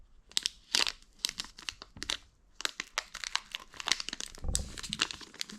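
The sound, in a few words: opening a Pokémon Sun and Moon booster pack wrapper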